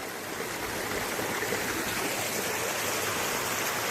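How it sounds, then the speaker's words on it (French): A waterfall in the Auvergne roars as a continuous broadband rush of falling water, steady and close, with no voices over it. "Apparemment, Julien, il y aurait une cascade."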